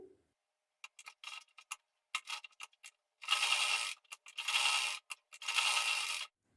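Sewing machine stitching a sleeve seam: a few short ticking bursts of the needle, then three longer steady whirring runs of close mechanical stitching separated by brief pauses, with no talk.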